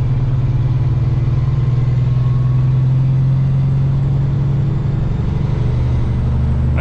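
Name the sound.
semi truck engine driving uphill at night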